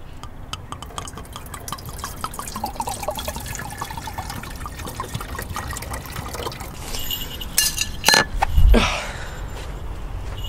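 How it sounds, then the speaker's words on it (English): Water is poured into the radiator of a car engine that had been smoking from running dry, a steady liquid trickle and fill rising to a louder gurgling splash near the end, with no talking. "So gonna put some water in there,"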